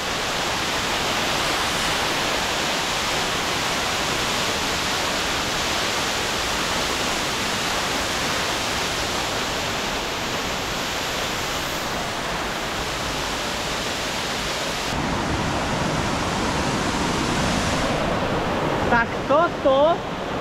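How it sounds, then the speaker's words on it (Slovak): Steady broadband rush of a small waterfall along a path in Bali, loud and continuous throughout, with the tone shifting slightly near the end and a few faint brief sounds at the close. "Ďalší malý vodopádik po ceste."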